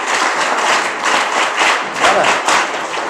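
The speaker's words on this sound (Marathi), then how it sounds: "आणि एकदा तुमच्या सर्वांसाठी टाळ्या वाजवा" Students clap together in a dense, steady burst of applause that holds at an even level for a few seconds, filling the room with overlapping hand claps.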